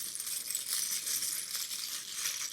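A pound of vintage metal buttons being spread out on a surface, a continuous bright rattling and clinking shuffle, close and fairly quiet.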